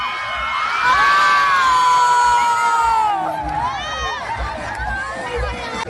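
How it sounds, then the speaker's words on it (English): A lively crowd cheers at a greased telegraph pole climbing contest for cash prizes. Shrill shouts and whoops swell, then fade into overlapping excited voices and chatter. "as you can see, it drew quite a lively crowd"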